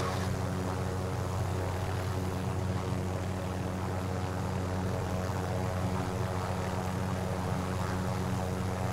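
Helicopter flying in the video game Call of Duty Warzone, a steady droning rotor and engine hum that holds level throughout without other sounds.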